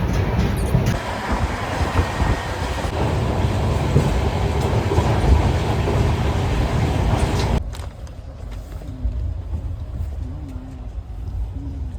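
Inside a moving passenger train, a loud, heavy rumble of wheels and carriage fills the first seven seconds, then drops abruptly to a quieter, steady hum.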